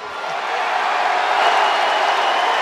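A large arena crowd boos at a McGregor-era MMA event, a dense, continuous roar that holds steady and swells slightly, with no distinct voices standing out.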